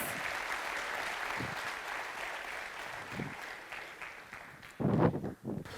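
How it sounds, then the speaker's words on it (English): Applause from a college colloquium audience greeting a speaker coming on stage, a steady wash of clapping that carries through most of the stretch before a few louder bursts near the end. "Let us welcome Mr. Rajwade on stage with a huge round of applause."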